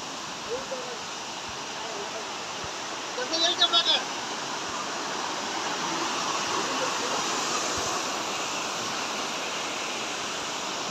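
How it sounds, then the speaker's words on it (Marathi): A small waterfall at Marleshwar in the Konkan during the monsoon rushes in a steady, broad wash of falling water, continuous and fairly even, with a brief faint chirp-like sound near the start. "छोटा मिनी धबधबा"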